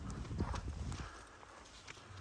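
A horse walks, its hooves clip-clopping in a few soft, uneven beats early on before fading into faint background noise, quiet and somewhat distant.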